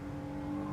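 A RenaultSport Clio V6 on the Nürburgring gives a brief, steady engine hum with a firm low tone, close and even throughout.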